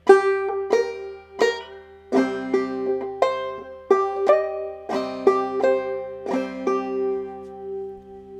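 A banjo picked in a clawhammer style playing Darling Corey, bright plucked notes mixed with brush thumb strums in a lilting, uneven rhythm, close and clear.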